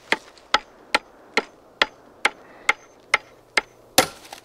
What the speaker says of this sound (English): Even Bacon apparently improvised this hammer scene.